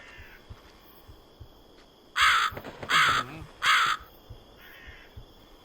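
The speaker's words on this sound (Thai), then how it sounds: "ปวดเหลือเกินเวลาอีกามันร้องอะพี่" Three loud, harsh crow caws in a row from the horror video game Sign of Silence, each about half a second, over a low steady background with faint ticking.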